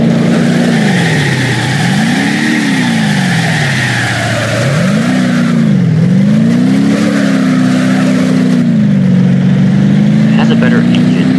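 A truck engine in the BeamNG.drive driving game revs steadily, its pitch rising and falling in repeated swells as the off-road maintenance truck accelerates and drifts, loud and continuous with a voice talking over it.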